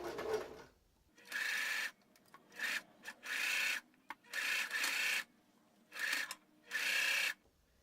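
A sewing machine stitches quilt seams in stretchy fabric, running in short bursts of whirring separated by pauses, close and fairly steady, with no talking.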